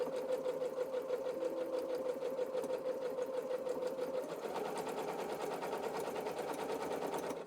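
A sewing machine runs steadily while stitching bias-cut apron fabric, its rapid mechanical needle chatter humming close and continuous, shifting slightly in pitch partway through before stopping at the end.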